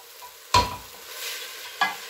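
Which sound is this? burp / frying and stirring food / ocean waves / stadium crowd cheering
frying and stirring food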